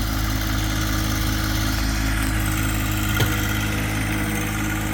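A tractor engine drones at idle, low and continuous, with a brief clunk partway through and no voices.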